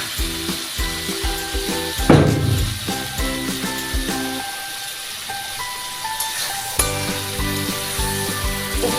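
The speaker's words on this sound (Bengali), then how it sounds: "চিংড়ি মাছটা কষানো হচ্ছে" Prawns frying and being stirred in a pan over low gas for a semi-gravy prawn curry, with a steady sizzle, occasional stirring knocks and a tonal background running throughout.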